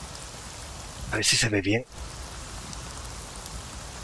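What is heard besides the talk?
rain in the video game Avatar: Frontiers of Pandora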